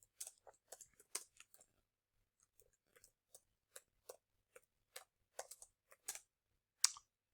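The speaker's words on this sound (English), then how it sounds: "Typing with one hand because I'm holding my phone right here." Sparse, irregular keyboard taps, quiet and close, clicking in short bursts with pauses between keys.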